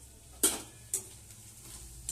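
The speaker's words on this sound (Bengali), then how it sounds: "দেখো, আর একটু লাল করে ভাজা হবে।" Food frying in a pan under a low steady sizzle, punctuated by two sharp scraping stirs and a softer third one, close by, with no talking.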